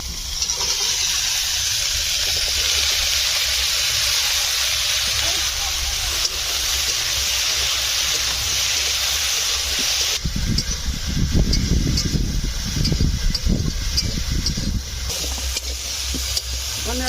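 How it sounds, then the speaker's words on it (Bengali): Vegetables frying in a pan for a traditional Bengali home-cooked dish: a steady bright sizzling hiss runs for several seconds, then gives way to rougher bursts of crackling and stirring. "বন্ধুরা সবজিটা ওপরে ভেজে নেবো ভালো করে"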